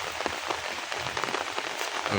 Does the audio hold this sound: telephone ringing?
no